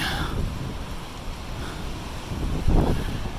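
Wind blowing past a high-rise building in downtown Hamilton, a steady broadband rush with gusty rumble on the microphone and a stronger gust near the end, no talking.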